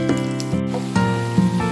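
Potato pieces frying in hot oil in a kadai, a steady close sizzle with soft bubbling pops, alone and fairly loud.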